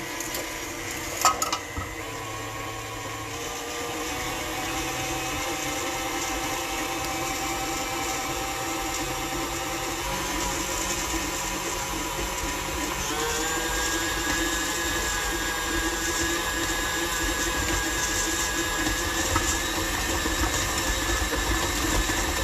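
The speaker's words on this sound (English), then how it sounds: "I'm just going to start my mixer and add in the olive oil." A KitchenAid stand mixer kneads pizza dough as olive oil goes in, its motor giving a steady, close whirring hum that runs unbroken for the whole stretch.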